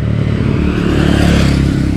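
A motorcycle engine rumbles steadily nearby, a low droning whir that swells slightly as it passes.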